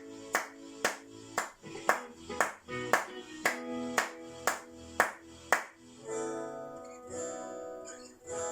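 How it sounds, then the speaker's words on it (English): Children in a music lesson clap a steady pulse in time with music, about a dozen crisp, evenly spaced group claps that stop while the music carries on quietly. "we clapped that steady pulse"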